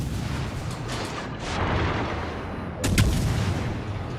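Naval guns fire on an enemy Fletcher destroyer in World of Warships: Legends, with deep booming shots over a rumbling battle backdrop and one sharp, louder blast near the end. No one talks.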